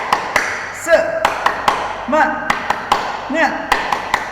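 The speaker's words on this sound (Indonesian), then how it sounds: "Baik, kita tepuk semangat dulu ya, sama-sama ya. Tepuk semangat." A third-grade class claps the 'tepuk semangat' pattern together in a classroom: sharp, uneven hand claps in a patterned rhythm, mixed with children's voices calling out over the clapping.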